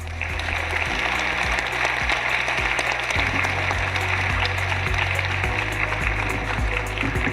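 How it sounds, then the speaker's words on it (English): Audience applause for panelists and a moderator after a conference discussion, a continuous even wash of clapping hands at moderate level, steady throughout with a low hum beneath. "Let's give them another big round of applause"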